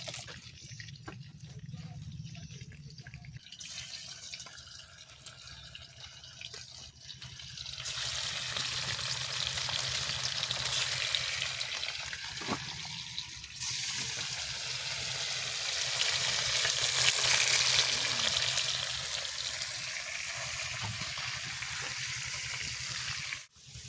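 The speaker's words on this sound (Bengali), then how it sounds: "চলো আমাদের আলু ভাজা হয়ে গেছে, নামিয়ে নেবো।" Potatoes frying in a pan outdoors, a soft, fairly faint sizzle that swells louder midway and stays continuous, with occasional clinks and speech in the background.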